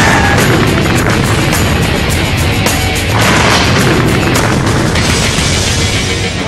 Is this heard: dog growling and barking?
no